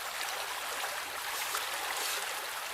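Strong river current rushing steadily past the bank during a barbel fishing session, a continuous broad wash of flowing water with no pauses, close and fairly loud throughout.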